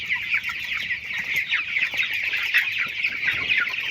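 A poultry farm flock of many chickens clucks continuously at close range, a dense, busy chatter with no pauses.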